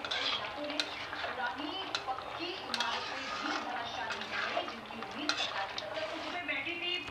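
A spoon stirs thick aloo gobi curry gravy with garam masala in a pan, scraping and clinking against the metal in a continuous busy rhythm, with faint sizzling beneath.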